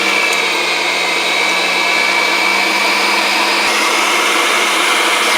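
A meat grinder churns bacon and partly frozen pork with a steady, loud motor whine and whirring hiss that holds unbroken for several seconds, close by with no talking.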